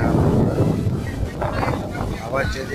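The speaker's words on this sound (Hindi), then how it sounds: "हवा चली है, बस मौसम भी मस्त है यहाँ पे बिल्कुल।" Strong wind buffets the microphone at Anjuna Beach in Goa, a steady roaring rumble with someone speaking over it.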